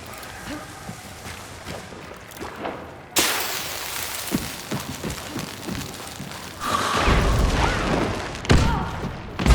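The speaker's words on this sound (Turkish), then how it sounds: "Bomba patladı galiba ama hasar yedi yukarıda." Bombs explode in a video game. A sudden loud broadband blast hits partway through, and a second, deeper booming explosion follows with low rumble, over scattered in-game thumps and shots.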